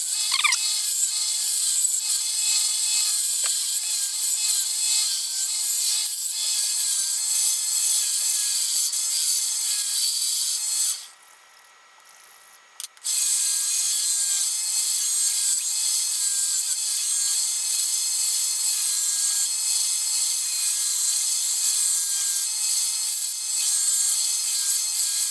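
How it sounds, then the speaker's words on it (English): Wooden knife handles are sanded by hand with steady, raspy back-and-forth scraping strokes that run throughout, pausing briefly about midway before resuming, with no voices. "And then you're going to want to sand it and get out any excess."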